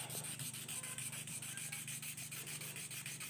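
An eyeglass lens rubbed back and forth on a whetstone makes a steady rhythmic grinding scrape, close and fairly quiet, repeating evenly in short strokes.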